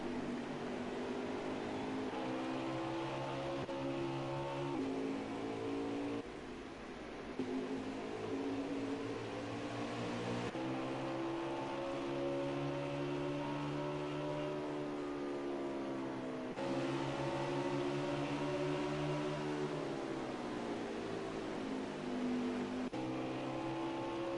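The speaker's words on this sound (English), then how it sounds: "We're riding around in the number 37 Chevy Camaro of Taddy" Inside the number 37 Chevy Camaro on the move, the engine drones steadily at close range for the whole stretch, its pitch rising and falling as it revs through gears, with no talk over it.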